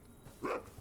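A single soft, faint bark or yip from a puppy in Minecraft, one of two dogs, sounds briefly over quiet background.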